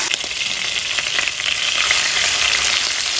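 Chicken pieces frying in hot oil give a steady, loud, dense sizzle that carries on without pause, with no voices over it.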